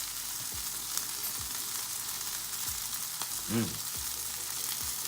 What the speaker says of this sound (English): The butter's starting to melt now.